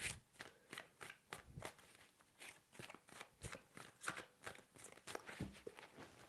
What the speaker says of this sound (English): Three shuffles for the Sagittarius.